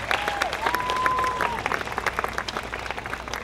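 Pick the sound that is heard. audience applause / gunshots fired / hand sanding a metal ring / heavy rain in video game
audience applause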